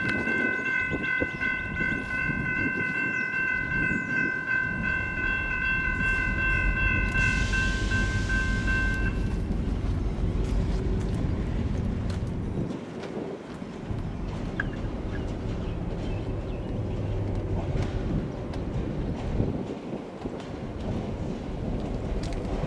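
An EMD GP11 rebuild diesel locomotive of the Columbus and Greenville Railway rumbles at a distance, its low engine drone steady throughout, with a brief multi-tone horn blast early on.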